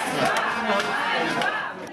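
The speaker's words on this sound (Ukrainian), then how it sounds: "Далі лише галас та вигукування своїх вимог у різнобій" Protest crowd at the city hall in Cherkasy shouting demands over one another, a dense, loud wall of overlapping voices and yells with no pauses.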